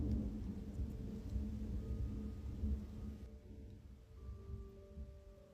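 A low, steady thunder rumble rolls on for several seconds, fairly faint and distant, with a soft continuous wash of background noise and no voices.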